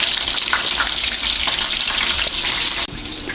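Fish fillet frying until golden brown sizzles and crackles steadily in hot oil. The sound is close and continuous, then drops off sharply near the end.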